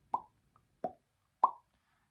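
A mouth sound imitating a popping bubble: three short, hollow plops spaced evenly about two thirds of a second apart, quiet and close, with no talk.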